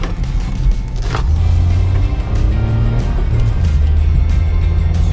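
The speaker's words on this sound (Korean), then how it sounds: "이제 시운전 좀 간단하게 해볼까요?" Interior drone of a Kia The New Morning on a test drive, a loud low engine and road hum whose pitch steps up and down with shifting speed, with a brief scraping rustle near the start.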